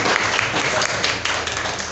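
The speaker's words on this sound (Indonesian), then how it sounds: "tepuk tangan untuk Alfonsus." Classroom applause for a student, a steady dense patter of many hands clapping together for about two seconds with no one speaking over it.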